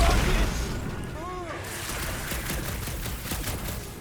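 Rocket fire in the Guardians of the Galaxy video game: a dense run of bursts and booms under game noise, starting loud and staying busy throughout.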